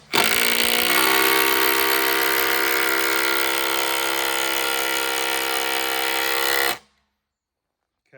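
A Ridgid Gen5X brushless power tool runs on a 4Ah battery with a steady, loud, high-pitched whine that holds for about seven seconds before cutting off into silence.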